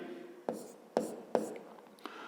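A pen scratches out figures on paper during a fifth-grade maths exercise, a few short quiet strokes spaced about half a second apart, with soft rustling between them.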